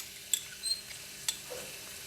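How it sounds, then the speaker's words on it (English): Garlic frying in about three tablespoons of hot cooking oil in a pan for glass noodle stir fry, a faint, steady sizzle broken by a few sharp clicks and scrapes, with no talking. "When oil is hot, add in garlic."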